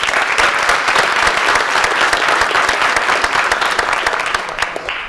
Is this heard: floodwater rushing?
no